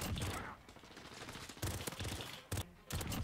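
Bursts of Renetti pistol gunfire in Call of Duty: Modern Warfare, several loud sharp volleys separated by brief pauses, with game sounds and no talk.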